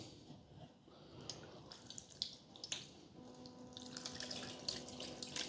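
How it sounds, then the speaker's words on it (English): Water poured gently over moss on a pomegranate bonsai in a pot, a soft close trickle and patter with a few splashy bursts, building to a steadier pour toward the end. "just give it a little bit of a water"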